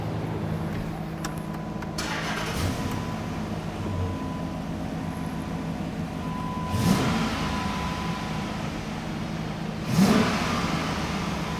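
A 2006-10 Dodge Charger engine runs at a steady hum after its MDS solenoids are replaced, with two brief revs rising and falling partway through, close and continuous.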